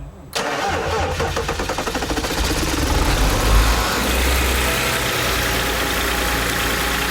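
A 2010 BMW X5 35d E70 diesel engine cold starts after a brief crank, catching abruptly and settling into a loud, steady, clattering idle up close.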